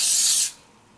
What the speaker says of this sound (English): And I'm going to give it a little spray.